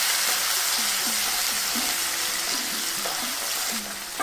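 Chopped shallots fry in oil over a low flame for green apple pickle, giving a steady broad sizzle throughout with a few soft stirring clicks, no voices.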